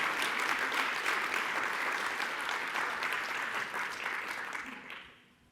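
A room full of people applauds for the authors with strong unit sales, a dense steady patter of many hands that holds loud and then fades away near the end.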